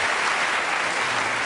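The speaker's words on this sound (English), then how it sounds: "Give a round of applause." A studio audience at a comedy panel show bursts into dense, loud applause that holds at a constant level for the whole short stretch.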